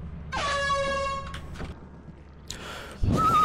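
Air horn blown in the video game Lethal Company, one loud, sustained harmonic blast lasting over a second, followed by a shorter second burst and some background noise.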